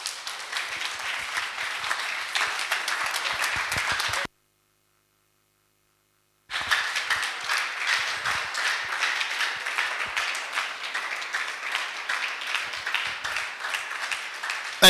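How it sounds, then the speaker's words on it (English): A seminar audience claps in sustained applause, broken by a short silent gap before the clapping resumes just as loud and steady. "another round of applause for him"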